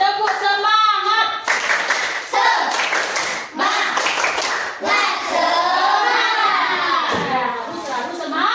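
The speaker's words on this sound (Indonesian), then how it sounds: "1, 2, 3, tepuk semangat." Fifth-grade schoolchildren in an Indonesian classroom perform the rhythmic tepuk semangat spirit clap, chanting together in loud bursts that alternate with patterned group clapping.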